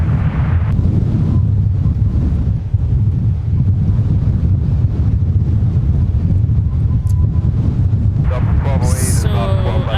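Strong, gusting wind at an airport, roaring steadily as loud low buffeting against the microphone for the whole stretch, with a faint chirp near the end.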